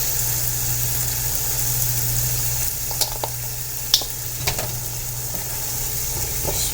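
Shakshuka sizzling steadily in a frying pan after more broth is poured in, a continuous close hiss and crackle with a few spoon clinks and scrapes over a low steady hum.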